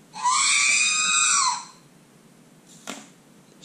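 A high, shrill electronic scream from an R2-D2 toy droid, one loud sustained burst of about a second and a half with warbling harmonics, followed by a brief faint click.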